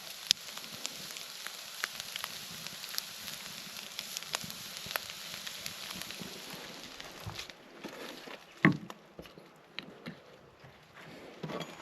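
Steak frying in oil in a pan over a campfire while truck camping in cold late-fall weather gives a steady close crackle and sizzle, with small pops and a brief louder knock near the end.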